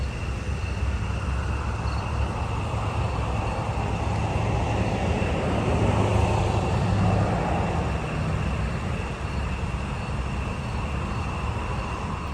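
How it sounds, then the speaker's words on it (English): A car passes by on a road at night over a constant background of chirping crickets, its soft rushing swell building and fading midway through. "3 minutes of crickets in the background and cars passing by."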